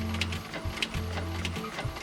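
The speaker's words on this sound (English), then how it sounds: "I'm testing the printing now" Printer running a test page at home, a short stretch of steady mechanical whirring with rhythmic clicks and faint ticks, close and fairly quiet.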